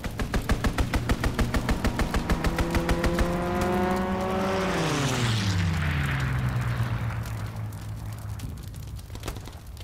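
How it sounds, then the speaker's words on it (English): Enemy aircraft strafing run in Call of Duty: WWII: a rapid burst of gunfire rattles at the start, then a loud plane engine sweeps in with a descending pitch as it roars past close overhead and fades into rumbling battle noise. "Enemy strafing run inbound."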